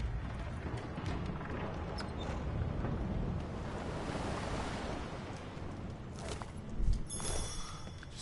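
Water floods in with steady washing waves in the Divinity 2 video game, a continuous broad surf-like rush that holds at an even level with a brief thump near the end.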